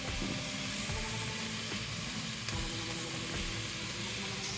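Ginger, garlic and mint frying in a pan for a Dindigul-style lamb biryani give off a steady, dense sizzle that holds evenly throughout, close and unbroken, with no voices.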